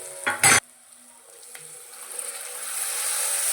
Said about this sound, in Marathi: इथे कोथिंबीर आणि कढीपत्ता घालून परत एकदा आपल्याला फ्राय करून घ्यायचं आहे।